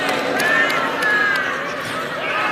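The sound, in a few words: audience applause for debate candidates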